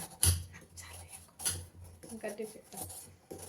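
A knife chops jaggery into small pieces on a hard surface, giving a few sharp taps and clacks at irregular intervals, close and fairly quiet.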